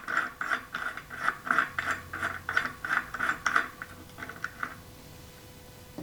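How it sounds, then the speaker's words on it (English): A quick run of close mechanical ratcheting clicks as a tool loosens the brake disc bolts on a Winspace Hyper bicycle wheel hub, steady and rhythmic, then fading to near silence. "Take the brake disc off the other side."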